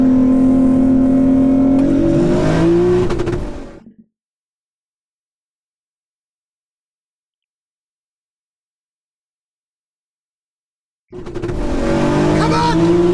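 Audi R8 with a naturally aspirated engine and an Audi A3 sleeper racing, loud engines revving hard and rising in pitch through the gears, cut off by silence, then roaring back in.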